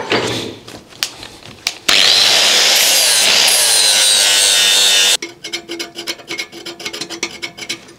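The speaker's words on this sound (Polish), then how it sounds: "Jeszcze trochę poszlifować." A Damascus steel knife blank is ground against an abrasive for about three seconds, a loud, harsh, whining rasp that starts and stops abruptly, with quieter scraping and workshop handling noise before and after.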